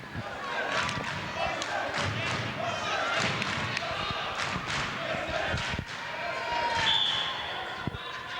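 A fired-up crowd roars and cheers at a 2002 boys high school volleyball county tournament match in a gym, with loud steady crowd noise, ball thumps and a commentator's voice throughout.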